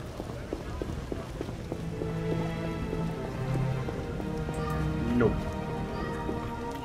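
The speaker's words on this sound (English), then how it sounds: "Rain's really pouring." Rain pours steadily in The Witcher video game, a constant hiss of falling water with scattered drip taps, heard under game sounds and faint voices.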